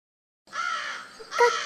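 A crow caws once, clear and close, a drawn-out harsh call followed by a short second note, alone against silence.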